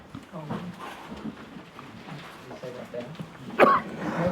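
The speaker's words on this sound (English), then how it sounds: "Can you see me coughing?" A person coughs, a sudden harsh burst near the end amid nearby talking voices and low room noise.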